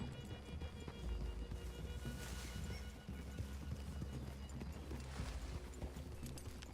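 Horses in the Red Dead Redemption 2 video game walk with a steady clip-clop of hooves, a whinny mixed in, under quiet ambient game sound.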